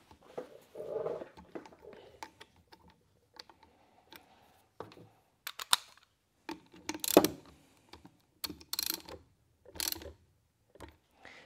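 Ignition parts being tightened on a Kreidler Florett K54 moped: scattered sharp metallic clicks and ratcheting taps come in irregular bursts, close and fairly quiet, with short pauses between them.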